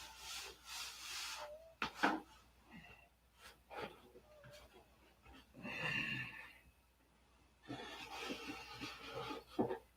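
Hand sanding of wooden fillets at a workbench, with bursts of rubbing scratchy strokes that come and go in uneven rhythm, some louder passes, close by with a little voice mixed in.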